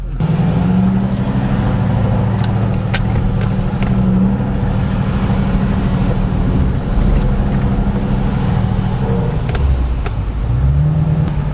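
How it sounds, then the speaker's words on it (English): A steady, loud engine drone heard from inside a vehicle cab, with constant low rumble and occasional faint rattles. "Sound comparison between the trucks inside."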